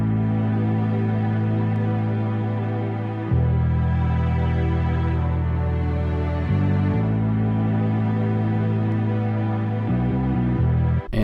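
An FL Studio beat layering an 808, a bass line and a Reese-style bass plays as a heavy, sustained low-end pattern with shifting pitches, steady and loud, with no voices over it.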